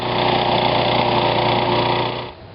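A petrol lawn mower engine runs at a steady, loud, buzzing drone close by, then winds down slightly at the very end.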